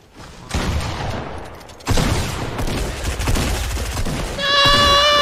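Loud, close bursts of gunfire in Fortnite from an attack shotgun, dense crackling blasts in two sustained stretches, ending under a bright tonal game chime.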